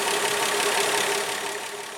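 Plymouth Valiant engine idling before its valves are adjusted, a steady even running noise with a busy ticking texture, close and alone.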